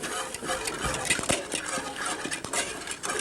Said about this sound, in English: So you constantly got to stir it.